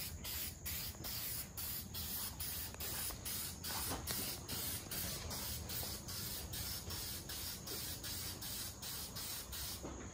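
A car, an Infiniti G37, gets a light first coat of spray paint: short hissing bursts repeat in a regular rhythm, one after another, with no talking over them.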